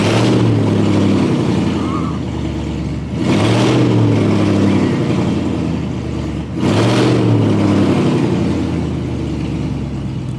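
BMW E39 540i V8 engine revving loudly up close after a gas tank replacement, with two strong rises in pitch and volume around the third and sixth seconds over a steady idle rumble.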